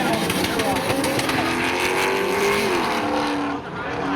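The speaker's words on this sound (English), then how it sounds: "Matching up against Kyle Buchanan in the 1981 Chevy." Cars drag racing at Seekonk Speedway, including a 1981 Chevy, in a spectator drag event: loud roaring engines rise in pitch as they accelerate nearby, with tire noise, then the roar eases slightly toward the end, and an announcer speaks over it.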